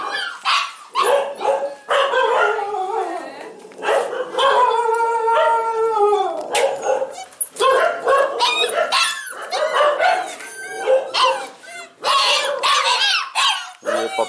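A group of puppies at a dog shelter in Agra bark and howl loudly and continuously at a stranger, with overlapping yips, drawn-out wavering howls and close, excited yelping.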